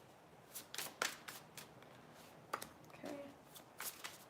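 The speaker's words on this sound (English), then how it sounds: "let's go start throwing cards down" Tarot cards being shuffled and laid down during a reading, giving a string of crisp papery riffles and soft slaps spread across the clip, close and fairly quiet, with a brief word spoken once.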